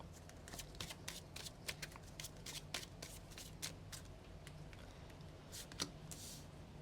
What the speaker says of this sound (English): I won't have to shuffle all these cards for you through the reading